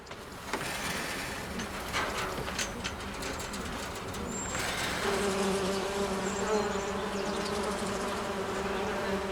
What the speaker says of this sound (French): Les abeilles impriment leur rythme à la grande symphonie de la nature.